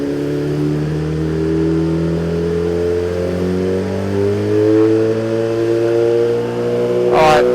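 2017 Suzuki GSX-R1000 engine cruising steadily in second gear at low speed, a smooth sustained drone with gently shifting pitch, heard from the rider's position, with a brief rustle at the end.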